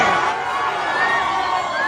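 A stadium crowd at an Alabama college football game cheers and roars in a dense, continuous wash of voices, loud and sustained throughout.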